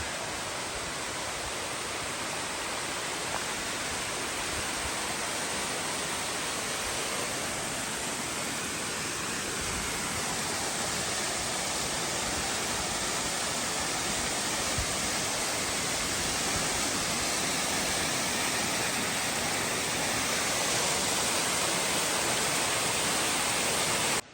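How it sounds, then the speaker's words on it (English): Steady, dense rushing of Deep Creek flowing alongside a forest road fills the whole stretch, a constant broadband wash with no voices or breaks. "There's a beautiful Deep Creek."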